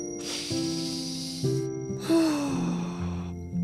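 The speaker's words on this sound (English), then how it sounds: "Breathe in, breathe out" Slow, deep breaths from a puppet character in a Christmas special, a long audible inhale followed by a long exhale, each a soft airy rush under a held musical tone.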